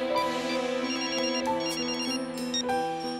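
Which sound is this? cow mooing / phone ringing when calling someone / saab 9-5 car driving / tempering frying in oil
phone ringing when calling someone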